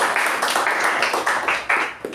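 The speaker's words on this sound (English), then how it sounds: "I think she deserves a round of applause for the honor" A small club meeting audience gives a short round of applause, with distinct claps close by that trail off within about two seconds.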